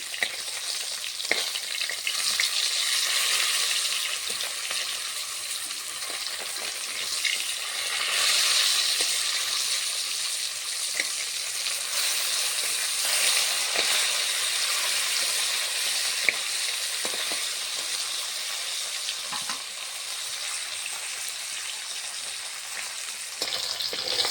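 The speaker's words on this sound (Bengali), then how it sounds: "এরকম করে ভেজে নিচ্ছি" Fish sizzling in hot oil in a pan, a steady, close, bright frying hiss that lasts throughout with small crackles and occasional stirring clicks, and no voices.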